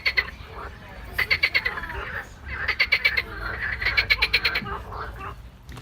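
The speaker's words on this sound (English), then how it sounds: "We've found some really, really noisy frogs." Several frogs croak in rapid, rattling bursts, chorusing in repeated clusters over a low background rumble.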